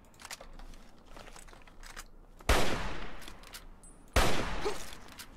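Gunfire in Fallout 3: two sharp, loud blasts about two seconds apart, each decaying into a noisy tail, over a quieter stretch of faint clicks and rustling.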